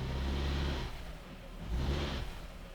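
A 2006 Honda Element engine revs in forward gear with the brake held, a close throaty mid-pitched drone that swells, eases off, then rises again.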